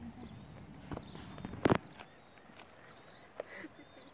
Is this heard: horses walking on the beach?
yes